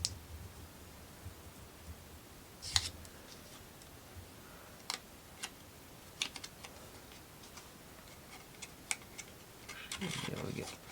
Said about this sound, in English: so I'm just going to use my big scissors.